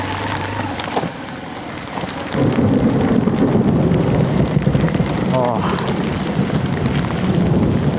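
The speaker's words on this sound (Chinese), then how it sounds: "一打雷，感觉离自己好近啊" Rolling thunder and heavy rain high on a mountain during a typhoon-season downpour. The steady roar of rain swells after a couple of seconds, with close, deep rumbles; a brief voice is heard.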